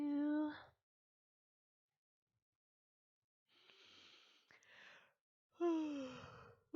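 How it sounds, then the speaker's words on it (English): A voice gives a drawn-out yawn with a falling pitch, and a soft breathy exhale follows after a pause. Another yawn-like sound comes close to the microphone, with silence in between. "Got a little yawn going on."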